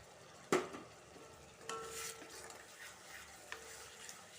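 Fermented bamboo shoot being stirred in a frying pan, starting with a sharp scrape followed by a soft, quiet sizzle and occasional clinks of a utensil against the pan.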